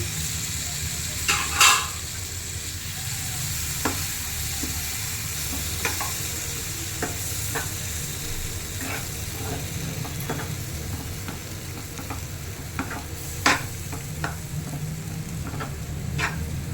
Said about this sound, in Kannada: ಸ್ವಲ್ಪ ಹುಣಸೆ ರಸ ಹಾಕೊಳ್ತಾ ಇದ್ದೀನಿ ಜೊತೆಗೆ ಜೊತೆಗೆ ಸ್ವಲ್ಪ ಬೆಲ್ಲ ಹಾಕೊಳ್ತಾ ಇದ್ದೀನಿ